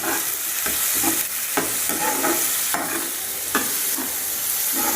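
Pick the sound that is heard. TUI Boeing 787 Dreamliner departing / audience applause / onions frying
onions frying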